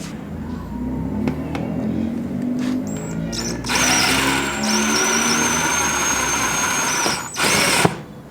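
A power drill whirs in bursts while someone fits a first modification to a Honda Civic, starting around midway and holding steady for several seconds before cutting off, with rumbling background noise throughout.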